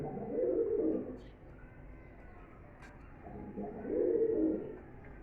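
Komodora pigeons at a pigeon farm give two soft, throaty coos a few seconds apart, close by, over a low steady background hum.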